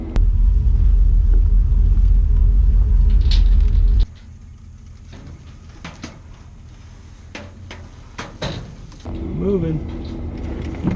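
Off-road truck engine in LaGrange, Texas rumbling heavily and low as it drives for a few seconds, then dropping to a quieter background with scattered knocks and brief voices.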